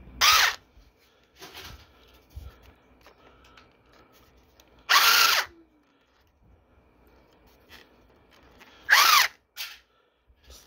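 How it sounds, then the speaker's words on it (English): A power drill drives a screw into a Maytag dishwasher in three short, loud whirring bursts separated by quiet pauses, with faint handling noises between them. "Now all I need to do, just put this screw"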